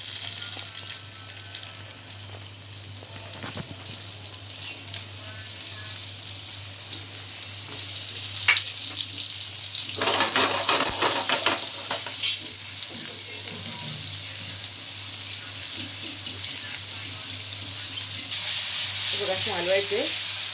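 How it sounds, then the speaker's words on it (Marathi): Okra sizzles and crackles loudly as it drops into hot oil for a crispy bhindi fry, the frying swelling steadily stronger with some scraping and stirring, while a voice speaks briefly near the end. "हे बघा, अशी टाकायची भेंडी."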